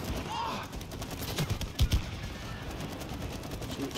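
Gunfire in the co-op video game It Takes Two comes as scattered, quick bursts, with one sharper volley near the middle, all over a busy game background.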